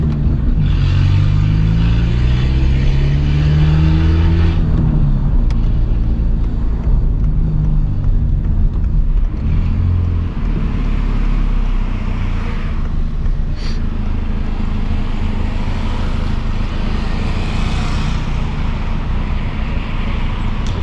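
A Peugeot 206 1.4 with a straight-pipe exhaust climbs uphill, its loud, raw engine droning close throughout, rising in pitch as it revs, then settling into a steady heavy rumble with no pops.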